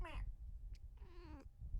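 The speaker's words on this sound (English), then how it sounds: "I don't know if you heard that meow." Cat meowing close by, two distinct meows with a short rising-falling call first and a longer one after a pause, over a quiet background.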